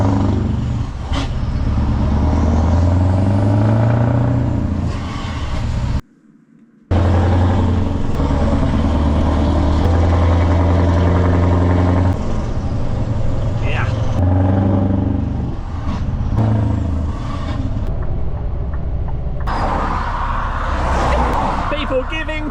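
A Volvo truck's diesel engine pulls away, a loud, steady low rumble that builds and shifts over about twenty seconds, with a brief cut partway through and voices talking over it.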